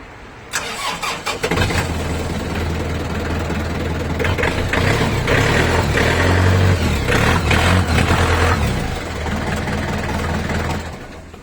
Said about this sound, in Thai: ยันมา 49 แรงตัวนี้นะครับ แน่น ๆ เลยครับ ให้ฟังเสียงก่อน